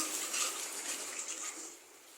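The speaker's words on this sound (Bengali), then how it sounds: "বন্ধুরা, অফ ক্যামেরায় পানি দিয়ে দিচ্ছি।" Water pours into a pot of chicken curry with potatoes and fried turmeric, chili and coriander spice paste, a steady broadband splashing gush that holds for about two seconds and then eases off a little.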